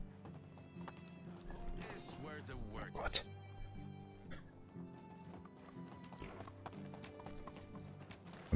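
Horse hooves clip-clop steadily during riding in the video game Medieval Dynasty, a soft rhythmic trot under game music and a neigh, with someone talking over it.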